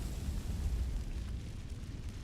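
A Confringo fire spell blasting in the video game Hogwarts Legacy: a deep, rumbling, explosive burst that rolls on steadily and then slowly thins out.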